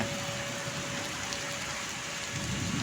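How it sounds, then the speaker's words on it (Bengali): Heavy rain pours down onto a flooded street in the capital, a dense, steady roar of drops close by with a low rumbling underneath, no talk. "প্রচুর বৃষ্টি প্রচুর বৃষ্টি হচ্ছে দেখুন"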